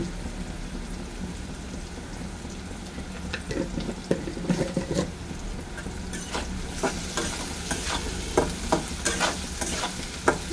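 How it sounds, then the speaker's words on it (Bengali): Potatoes frying in a pan with steady crackling sizzle, while repeated clinking stirs and scrapes grow busier toward the end, close and fairly loud. "আলুটা আর একটু ভাজা হোক"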